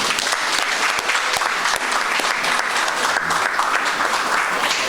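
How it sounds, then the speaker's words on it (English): At a mental health seminar, an audience breaks into dense, steady applause that carries through the clip, close and loud, with no speech over it. "Could we have another round of applause for Jim"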